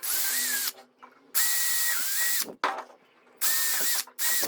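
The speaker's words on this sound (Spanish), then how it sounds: "ya realicé 4 agujeros que me van a servir para atornillar esta pieza a la base" A power drill bores pilot holes for screwing a piece to a base, whining in three long high-pitched bursts with brief ratcheting clicks and quiet pauses between them, close by with no talk.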